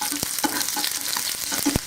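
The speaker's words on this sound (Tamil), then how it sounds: "எண்ணெய் நல்லா சூடேறதும் நான் 8 பல் பூண்டு கட் பண்ணி வச்சுருக்கேன், அதை போட்டுக்கிறேன்." Garlic cloves and green chilies sizzle in hot oil in a kadai, a steady crackling fry broken by quick clinks and scrapes of stirring.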